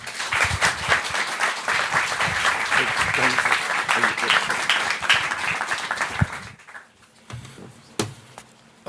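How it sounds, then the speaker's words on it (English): Audience applause at the GIFCT Global Summit 2022, a full, steady round of clapping that cuts off abruptly, followed by a man briefly starting to speak. "Applause, and I haven't done anything yet."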